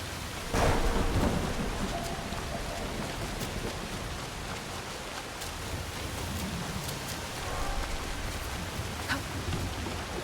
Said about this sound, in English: In case you weren't aware that it was raining.